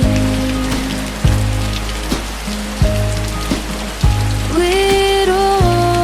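Steady rain patters as a soft wash of white noise beneath mellow lo-fi music with plucked tones and a gentle beat.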